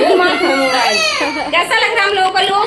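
A baby wails nearby in sustained, loud, wavering cries that rise and fall, while adults talk over it in a home during a family puja.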